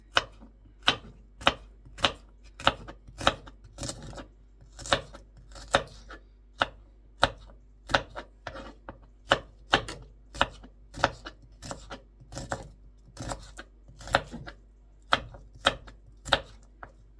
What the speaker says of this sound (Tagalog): Hiwa-hiwain. Ang sibuyas na yan.